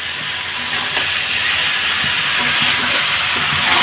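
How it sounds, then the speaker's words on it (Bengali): Potato and Malabar spinach greens frying in a pan give a steady, loud hiss and sizzle, with a few faint scrapes as the mixture is tossed and turned. "এখন আমি এভাবে উল্টায় পাল্টায় ভেজে নেব।"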